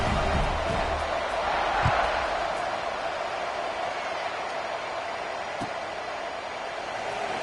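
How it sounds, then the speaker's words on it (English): A large stadium crowd at a football game sends up a steady, dense roar that holds at an even level throughout, with faint scattered thumps and shouts inside the wash of sound. "this crowd is buzzing after that last score"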